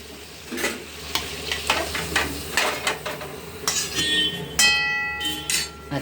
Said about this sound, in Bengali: এই যে তরকারিটা আলু আর ফুলকপির তরকারি হচ্ছে।